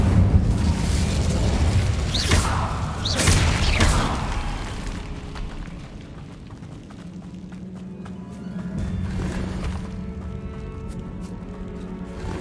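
Incendio fire spell cast in Hogwarts Legacy, a loud booming burst of flame followed by crackling fiery rumble that fades into a quieter sustained hum.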